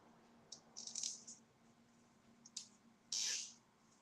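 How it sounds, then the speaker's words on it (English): A plastic zip tie is ratcheted shut on a DIY spackle-art Christmas tree decoration, giving several short bursts of quick clicking with a final louder, sharper zip near the end, close and in a quiet room. "Zip tying it together."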